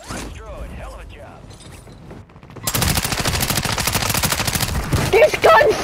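Quiet game ambience gives way to a loud, rapid burst of automatic gunfire in Warzone's Zombie Royale mode. The shots continue steadily for about three seconds with mechanical clatter, and a voice is heard in places.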